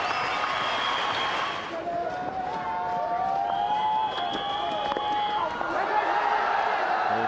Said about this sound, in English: So big cheer from the crowd.